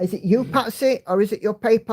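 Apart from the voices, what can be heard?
None of the usual background noises is heard.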